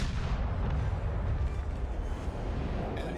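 Heavy naval gunfire in World of Warships, a loud deep rumbling barrage of cannon blasts that rolls on continuously for a few seconds and stays close and dominant, with no talk.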